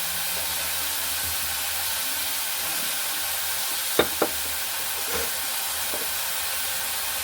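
Onion frying in a pan for eggplant bharit, a steady close sizzle and hiss throughout with a couple of sharp clinks of a spoon against the pan.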